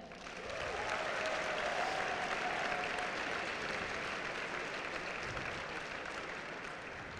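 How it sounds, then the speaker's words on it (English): An audience at a university convocation for incoming students breaks into sustained applause, a broad wash of clapping that swells and holds for several seconds. "Can we get a round of applause for all the hard work you've put in"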